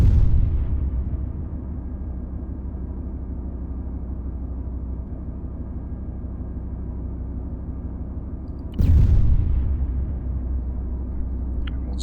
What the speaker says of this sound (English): So we'll fire a couple more HE